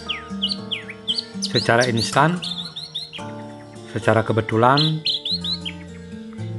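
An orange-headed thrush (anis merah) sings repeated bright chirps and rising whistled phrases, moderately loud and close, while someone talks over much of it.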